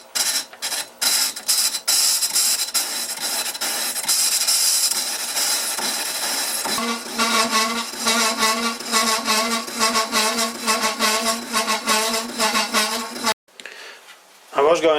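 A lathe cuts a vintage round leather belt pulley, and the tool chatters in a harsh, continuous scraping whine. It runs loud and steady for about thirteen seconds, then stops briefly before starting again.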